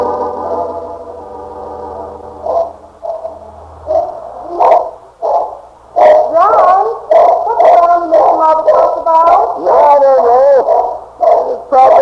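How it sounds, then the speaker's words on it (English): Loud dog barks and yelps, bursts rising in pitch and coming in rapid clusters, joined by howling toward the end, with music or talk faint underneath. "John, were you going to see what he's barking about before the neighbors start complaining"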